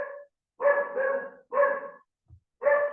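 A dog barks in four harmonic, fairly loud bursts with short gaps, each bark drawn out, heard indoors during a surgical teaching session with no talk.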